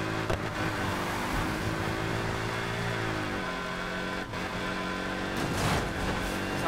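A Ford Mustang's engine drones steadily in the Need for Speed Heat racing game, a continuous loud hum with a brief pitch dip partway through and a short flare near the end, with no talking.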